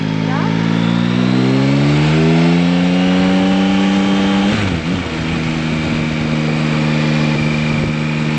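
A Yamaha Tracer 9 GT motorcycle engine revs up in rising gear-like sweeps as it pulls away from a start, loud and close, with wind noise and a voice over it.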